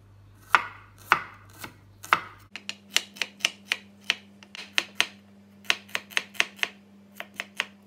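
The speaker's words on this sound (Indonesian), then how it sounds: "Bawang putih, bawang merah cukup diiris-iris saja." A knife slices garlic and shallots on a board while mie goreng mercon is prepared: a brisk run of sharp, close chopping taps in an uneven rhythm, with no talking.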